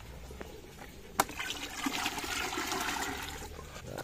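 Liquid spray mixture for treating leaf spot and mites being stirred and mixed, a steady watery swishing and trickling at close range after a single sharp knock, continuing evenly without talk.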